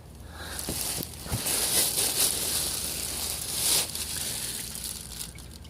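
Engine oil drains from the sump of a 2009 Porsche 911 Carrera 4S, a steady rushing pour with a few light knocks and clicks around it and no talk.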